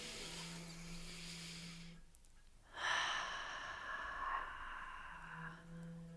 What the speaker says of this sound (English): start with one deep belly breath. Do it with me right now